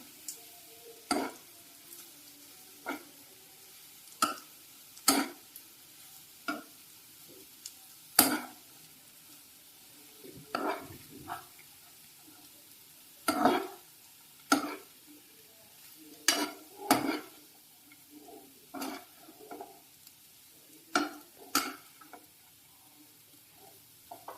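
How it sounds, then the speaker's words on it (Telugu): Cooked rice stirred in a kadai for egg fried rice, a spatula scraping and clanking against the metal pan in irregular sharp strokes over a faint background, no talking. "ఇప్పుడు ఆ రైస్ మనం ఆ కడాయిలో వేసుకోవాలి. ఇలా బాగా కలపాలి."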